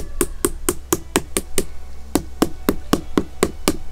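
A hammer taps holes into a pumpkin to make a lantern, giving sharp, evenly spaced knocks in two quick runs with a brief pause between them. The knocks are close and loud, with no talk.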